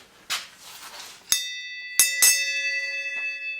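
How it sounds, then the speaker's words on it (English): A bell rings out in a quiet workshop, struck three times with sharp metallic onsets and long ringing tones that sustain and decay between strikes, clear and fairly close. "So I'm going to ring the bell."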